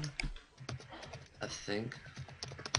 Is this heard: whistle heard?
no